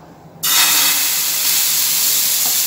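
Dosa batter hits a hot oiled tawa over a low-to-medium flame with a sudden bright sizzle that jumps in and holds as a steady, close, loud hiss with no talking.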